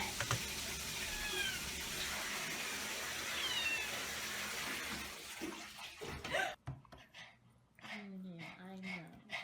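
A cat meows several times amid a running-water and noisy background, with people talking and laughing over the sounds in a comedic animal clip.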